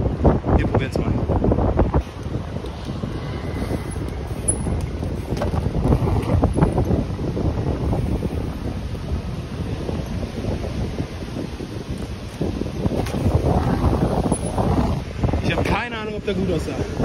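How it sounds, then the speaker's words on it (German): Strong gusty wind buffets the microphone throughout on an Amsterdam street during a trials bike ride in October, a loud continuous rumble with no clear talk. "Das ist wirklich, ich kann nicht genug sagen, wie windig es ist."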